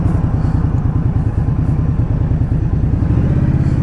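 A 2020 Indian Scout Bobber Twenty motorcycle sits running at a stop, its engine giving a close, steady, lumpy idle throb with a regular pulsing rhythm and no talk.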